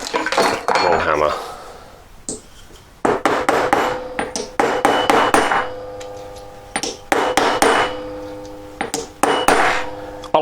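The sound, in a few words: doming a metal jewellery piece with a long hammer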